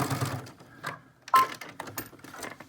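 A sewing machine backstitches across a fabric face mask in short bursts of rapid mechanical stitching, stopping and restarting as the direction reverses, with one sharper click mid-way, close and moderately quiet.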